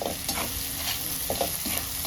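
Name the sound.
spices frying in hot oil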